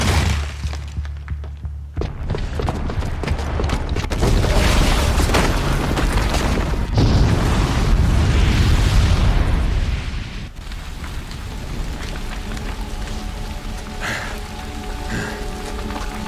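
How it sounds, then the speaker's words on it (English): Booby-trapped bomb detonating in Horizon Zero Dawn: a loud, sustained blast with crashing, shattering debris and rumbling roar, fading after about ten seconds into lower-level rubble and ambient game noise, no talk. "the booby trap on the bomb downstairs is gonna get set off"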